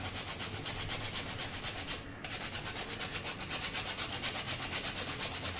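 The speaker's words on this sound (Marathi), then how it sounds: "इथे तुम्ही बघू शकता आपला अर्धा चमचा जायफळ किसून झालेला आहे" Nutmeg grated against a metal grater in quick, even rubbing strokes, a steady scraping rhythm that continues throughout with one short pause partway, close and alone with no talking.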